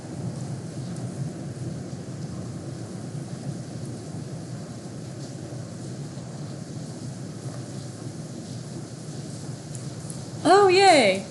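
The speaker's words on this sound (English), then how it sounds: "It's really, really heavy rain." Sudden, very heavy rain falls right outside a door, a dense steady roar with low rumbling beneath. Near the end a brief louder burst with voice-like tones cuts in.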